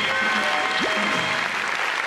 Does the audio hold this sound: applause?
yes